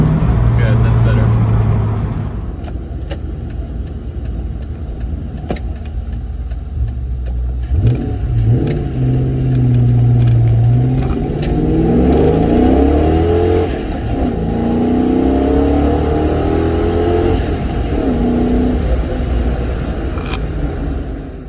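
A 2002 Ford Mustang GT V8 with new ignition coils revs hard and smoothly, its loud engine climbing and falling in pitch across several pulls, with someone speaking between runs.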